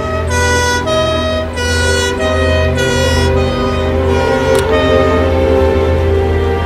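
A loud wailing police siren cycles up and down repeatedly, close and steady, with a rumbling engine underneath.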